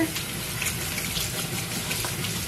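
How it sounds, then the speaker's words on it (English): A faucet runs steadily as a small dye brush and its container are rinsed under the stream, a continuous close hiss of water filling the short moment. "take your brush and your little container here, run it under water"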